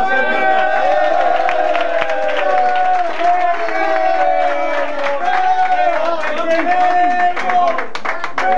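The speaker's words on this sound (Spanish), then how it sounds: "Se le dé un gran aplauso." At a Rayo Vallecano press conference celebrating promotion, a crowd claps steadily, mixed with cheering, whoops and overlapping voices, loud and close throughout.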